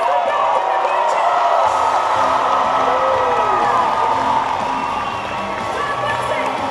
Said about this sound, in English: Can we get one more big round of applause, guys?